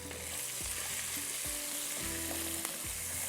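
Garlic and crushed black pepper fry in a pan, a quiet steady sizzle with a few soft stirring knocks recurring every second or so, close by and without speech.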